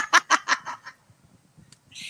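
A loud fowl call bursts out near the mic as a string of harsh, rhythmic crowing notes, trailing off into quiet before a short higher squawk at the end.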